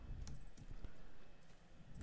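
Horse hooves in the Star Stable video game: a quiet, quick clip-clop of hoofbeats at a steady trotting rhythm, faint and fairly close, with no voices.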